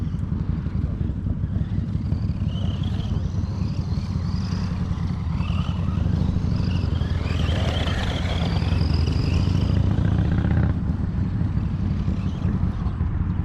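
A small Funtec mini bike engine runs steadily outdoors, a buzzy two-stroke drone that swells in revs toward the middle before easing back, with wind rumble on the mic.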